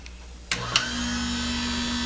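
An electric chainsaw chain sharpener starts up with a click and then whirs steadily, a constant close motor hum with a high grinding tone.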